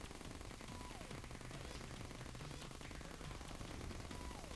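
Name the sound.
guns firing homing bullets in Terraria video game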